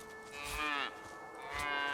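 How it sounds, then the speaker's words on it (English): Cattle moo in Divinity: Original Sin 2 Definitive Edition, with two drawn-out, close lowing calls one after another over a soft ambient background. "Some cattle over here."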